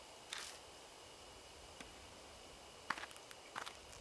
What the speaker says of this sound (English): I hear footsteps again. They seem to be getting closer.